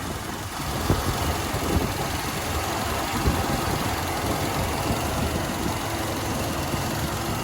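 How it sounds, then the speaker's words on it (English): A 1968 Chevrolet El Camino V8 engine idles steadily with a dense, even rumble that holds without change for several seconds. "Listen to my motor."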